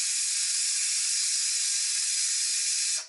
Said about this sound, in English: you're going to hear the steam come out